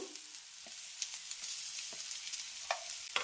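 Crushed fresh green corn is stirred into onion sautéing in oil, producing a soft, even sizzle with light scraping and tapping from the spoon every second or so.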